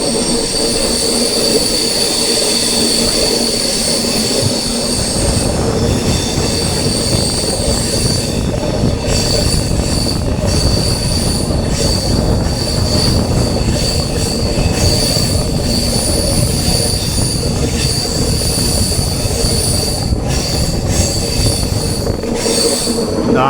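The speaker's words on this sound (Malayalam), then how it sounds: "ഇതിൻ്റെ ഇടയിൽ കൂടെ LHV കോച്ചുകൾ പോകുന്ന കാണാം" A passenger train of LHB coaches hauled by a WAP-7 electric locomotive rolls past on the adjacent line, loud and sustained, with steady rumble, clattering wheels and high metallic wheel squeal throughout.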